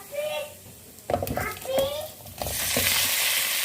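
Boiled potatoes drop into a frying pan with a sharp thud and clatter, then stirring and a growing sizzle, while a voice chatters briefly in the background.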